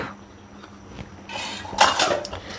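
A cooking pot and metal utensils clink and scrape close by as food is checked for doneness, faint at first, then a louder cluster of rattling metallic knocks toward the end.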